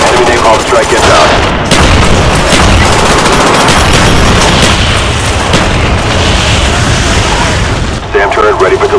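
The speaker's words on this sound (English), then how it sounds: "Enemy napalm strike gets out." Loud, dense napalm strike explosions and continuous gunfire in a Call of Duty Black Ops team deathmatch on the Nuketown map, a roaring wall of booms and shots with voices over it.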